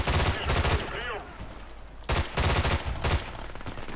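Bursts of L85 rifle fire in the online shooter Battlefield Play4Free on the Karkand map, loud repeated volleys with a short lull between them, mixed with a voice speaking.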